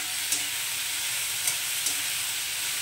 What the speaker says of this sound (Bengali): এইভাবে 2-3 মিনিট এইভাবে একটু নাড়াচাড়া করে নেব।